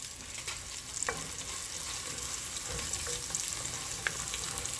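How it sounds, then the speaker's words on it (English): Finely diced onions fry and simmer in a pan with a soft, steady sizzle. Occasional light scrapes and taps of stirring come through, and no one talks. "Let that simmer."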